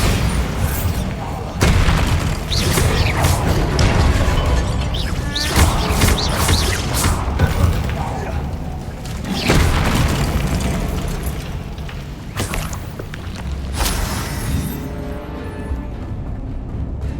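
Bombarda blasting spells go off repeatedly in Hogwarts Legacy, several loud booming explosions and crashes spread across a busy stretch of game combat, each burst sharp and close.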